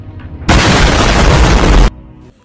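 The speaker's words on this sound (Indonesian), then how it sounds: "kapal selam itu pun meledak dengan sangat dahsyat" A submarine explodes violently in one massive, sustained blast that roars at full loudness for over a second and then cuts off, leaving a quiet tail.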